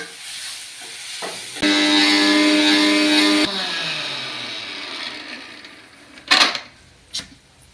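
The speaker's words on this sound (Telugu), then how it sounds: "ఈ లోపల బియ్యం ఉన్నాయి కదా, మిక్సీ పట్టుకుంటా." A mixer grinder whirs at rice for about two seconds, a loud steady motor whine that starts and stops abruptly, followed by quieter kitchen handling and a couple of clatters.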